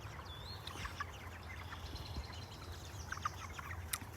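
Five-week-old Cornish cross chickens cluck and peep softly on pasture in cold weather, scattered faint calls over a low steady background.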